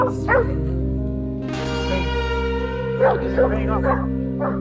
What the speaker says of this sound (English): the bay dogs are released, and like guided rockets, head straight for the wild boar